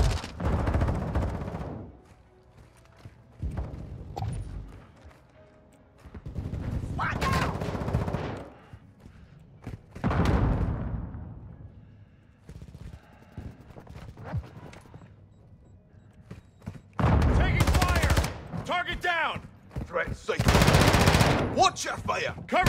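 Gunfire rattles in Modern Warfare 2, long bursts of automatic weapons alternating with brief pauses, loud and close, with shouted voices in between.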